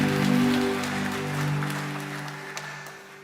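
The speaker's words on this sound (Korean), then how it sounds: "우리 저들 통해서 영광 받으실 하나님께 감사의 박수 올려드리겠습니다" Congregation applause during a Korean church Sunday worship service, a steady wash of clapping fading gradually under sustained organ or keyboard chords.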